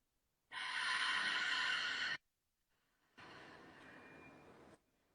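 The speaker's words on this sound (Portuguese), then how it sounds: "Inspira profundo pelo nariz. Exala pela garganta." A deep breath drawn in through the nose, then a slower, softer exhale pushed out through the throat, two distinct breath sounds close to the listener with silence around them.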